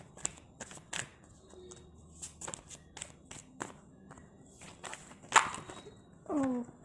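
Tarot cards are shuffled and handled in a quiet room, giving soft irregular riffling clicks and taps with faint rustling between them.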